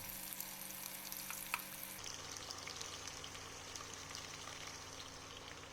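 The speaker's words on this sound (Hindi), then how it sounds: "अब हम इसमें कटी हुई आधी प्याज डाल देंगे।" Chopped onion drops into hot oil spiced with whole garam masala, the quieter crackle before giving way to a denser, steady frying hiss that continues at low level without speech.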